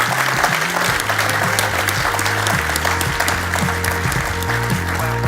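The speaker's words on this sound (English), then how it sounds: "And will you give Steve a round of applause as well" Sustained audience applause after a panel discussion, dense and loud, with a steady tonal hum or music line running underneath the clapping throughout.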